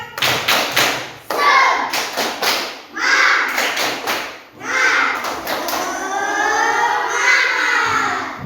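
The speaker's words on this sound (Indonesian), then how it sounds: "Tepuk semangat" A classroom of children performing a rhythmic spirit clap chant, loud patterned claps in quick groups followed by a burst of children's excited voices and cheering close by.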